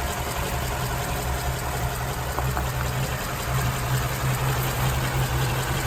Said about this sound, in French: Et ce moteur, il tourne à merveille.